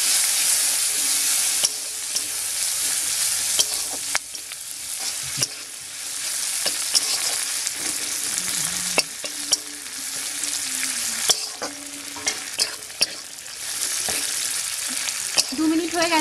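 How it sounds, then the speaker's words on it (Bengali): Onions sizzling in hot oil in a pan while cooking a fish curry, a loud continuous frying hiss punctuated by frequent spatula clicks and scrapes against the metal. "পেঁয়াজটা হালকা 2 মিনিট মতো ভেজে নিতে হবে"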